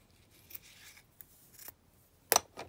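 Scissors cutting patterned paper to line vintage envelopes: a few quiet, crisp snips and slicing rustles close by, with the sharpest cut near the end, no talking.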